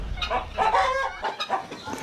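Roosters and hens at a farm cluck and crow close by, a busy overlapping series of short calls filling the whole stretch.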